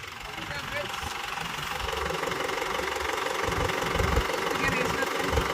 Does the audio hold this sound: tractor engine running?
yes